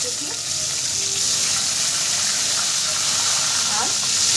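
Onion hitting hot oil with cracked black pepper and green cardamom for jackfruit biryani, giving a loud, continuous hiss and sizzle that swells slightly toward the end, with a faint voice underneath.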